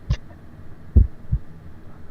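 Low, muffled heartbeat thumps sound from inside a box in the Call of Cthulhu video game, three soft beats spaced unevenly over a dull background hum, with no talking.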